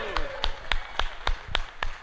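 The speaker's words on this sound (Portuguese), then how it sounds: "Dá uma salva de palmas ao Senhor com alegria aí" A church congregation claps in unison, with sharp, evenly spaced claps of about three per second. The clapping is close and loud, with voices and singing underneath.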